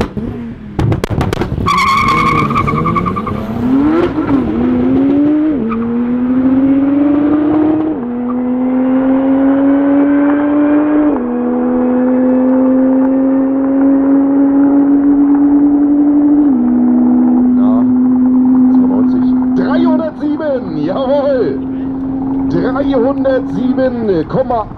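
Lexus SC300 with a turbo setup making 650 hp accelerating hard through several gears, each upshift dropping the rising engine howl before it climbs again, loud and close, with brief tire noise at the start.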